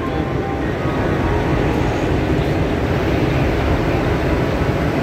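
A railway locomotive of the Howrah-Dhanbad Black Diamond Express standing at Howrah station, giving a steady, loud, broad engine rumble and drone that holds constant throughout, with no talk.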